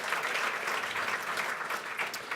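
An awards night audience applauds for event sponsors, a dense, even wash of clapping from a large crowd at moderate distance.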